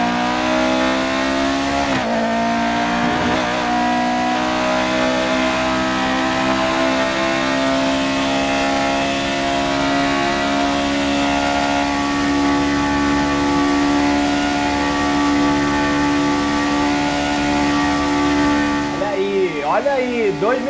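A Lotus 78 race car in the F1 2018 video game accelerates to top speed, its loud engine whine climbing steadily in pitch and holding high for about twenty seconds, with a gear-change dip near the start.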